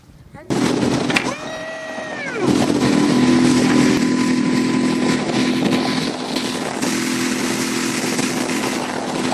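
Outboard motor on a wooden Carolina dory drones steadily at half throttle after a brief revving rise, loud and close, with people talking faintly over the engine noise.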